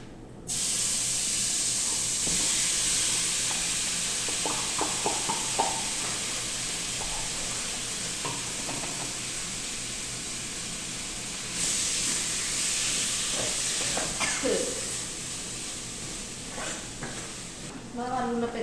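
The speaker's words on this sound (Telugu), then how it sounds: "సో ప్రాన్స్ని ఫ్రై చేసుకుందాం" Prawns frying in a pan for a mixed non-veg biryani give a steady close hiss and sizzle throughout, with occasional clinks and stirring scrapes and a brief burst of louder sizzling near the middle.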